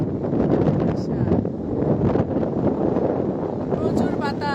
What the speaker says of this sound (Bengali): প্রচুর বাতাস, হ্যাঁ একদম প্রচুর বাতাস